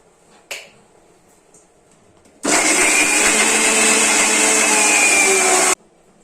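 A loud electric blender whirs steadily for about three seconds, grinding grapes and milk into a paste. A sharp tap comes just before it, and quiet follows once the motor cuts off abruptly.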